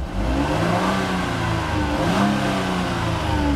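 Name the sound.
2008 Jeep Wrangler X Unlimited engine revving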